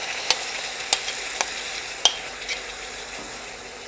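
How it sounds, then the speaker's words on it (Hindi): A yogurt spice paste goes into hot ghee for Jodhpuri chana dal haveji, making a soft, steady sizzle broken by several sharp clicks of a spoon stirring against the pan. "अब जी का दही रो मसाला बना रखे हो वो इनमें डाल देंगे।"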